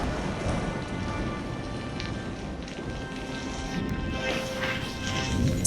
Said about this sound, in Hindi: बारिश लगातार दिन रात बरसती रही और पूरा गांव बारिश में डूब गया।